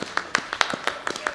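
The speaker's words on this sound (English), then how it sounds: "Will you join me in giving Goldilocks a round of applause for sharing with us today?" A handful of sharp, separate handclaps in an uneven rhythm from a small audience at a community speaking event, close and moderately loud, with no talking.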